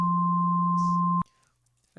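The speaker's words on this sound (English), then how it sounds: "If we have the same kind of sine wave test that I did here" Steady pure sine test tone, loud and unwavering, holding for over a second before cutting off abruptly, leaving near silence with a faint hum and a brief click at the end.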